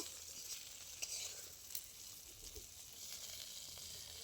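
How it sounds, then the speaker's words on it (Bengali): Eggplant frying in mustard oil fills the clip with a steady, quiet sizzle and hiss, with a few soft clicks and no talking. "খুব ভালো করে বেগুনটা আমি লাল লাল করে ভেজে নিয়েছি"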